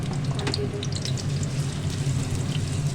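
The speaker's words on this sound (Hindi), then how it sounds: "उसी कढ़ाई के अंदर जो है ना मैंने हल्का सा ऑयल लिया है और मैं इसके अंदर प्याज फ्राई कर लूँगी।" Onions frying in a little oil in a kadai give a steady, moderately quiet sizzle with faint crackles and pops throughout, heard alone without talk.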